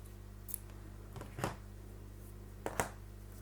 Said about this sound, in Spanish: un punto de cadeneta, cortamos el hilo